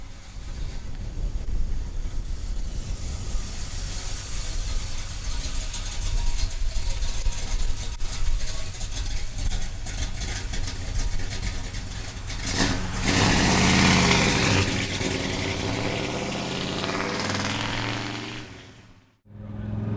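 A 1967 Chevrolet Chevelle big-block engine rumbles loudly with a deep, throaty exhaust, revving and surging while driving, then cutting off abruptly near the end.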